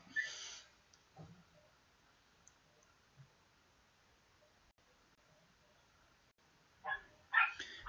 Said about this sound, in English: Sorry about the dogs barking in the background.